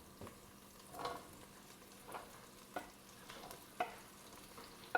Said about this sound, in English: To my pot, I'll add the sausage that I cut up.